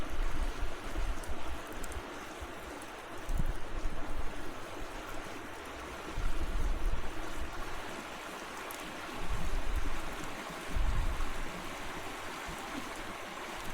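Steady broadband rush of flowing stream water at a winter campground in the Blue Ridge Mountains, continuous and fairly close, with gentle swells in the low rumble and no voices.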